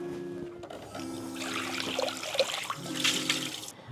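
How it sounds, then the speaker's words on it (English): Tap water runs steadily into a mixing bowl as it is rinsed in a kitchen sink, a close trickling and splashing stream with a faint hum beneath. "I'm going to rinse my bowl out."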